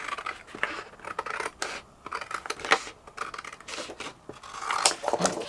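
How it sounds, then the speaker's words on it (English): Scissors cutting out card for card making, a close, quiet series of crisp snips and slicing scrapes in an uneven rhythm, some quick and clustered, others spaced apart, with no talking. "And then we're just going to cut it out"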